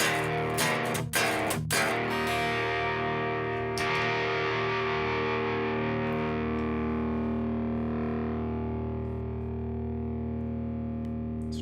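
An electric guitar through a drive pedal set to minimal gain, using mostly volume, strums a few chords, then one chord rings out and slowly decays.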